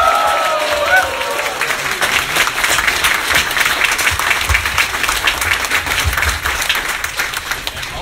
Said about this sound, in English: Let's give Victor Law a round of applause for his special accomplishment